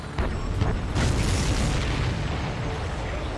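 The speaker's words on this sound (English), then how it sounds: "Did you see that explosion? Looks like that's one of them down." A supply ship explodes in the aerial combat video game Ace Combat 7, producing a heavy rumbling boom that swells and then rolls on as a sustained roar under the game's engine noise, with no talk.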